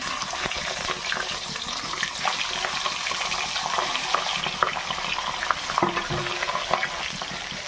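Hilsa fish pieces fry in hot oil for a mustard and poppy-seed curry, a dense continuous sizzle and spatter close up, with occasional clinks and stirring, no talking.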